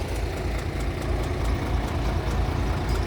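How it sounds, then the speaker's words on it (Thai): A heavy diesel tractor engine, towing a van, rumbles steadily at low pitch with a constant chugging idle, close by and unbroken throughout. "มีรถไถมาลาก"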